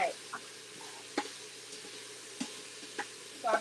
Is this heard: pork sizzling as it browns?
yes